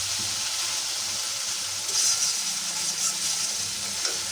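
Spice paste sizzles and fries in a pan while being stirred, ahead of adding bottle gourd and green chillies; a steady close hiss with soft scraping.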